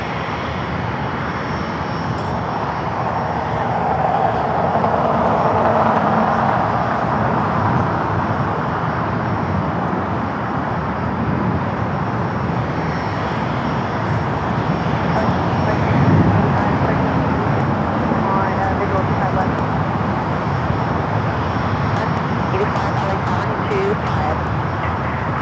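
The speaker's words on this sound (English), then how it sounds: "The Delta 767 taking off on the north side" A Delta Boeing 767 takes off on the north side at LAX, a sustained, fairly loud engine roar that swells slightly midway and stays steady, with faint background noise.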